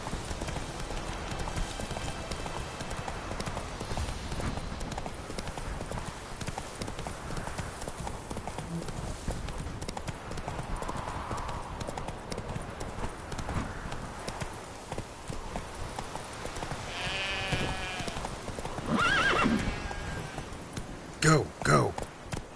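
Roach the horse clip-clops along at a steady trot in The Witcher 3, hooves close and continuous, with a couple of neighs and whinnies breaking out near the end over ambient game sound.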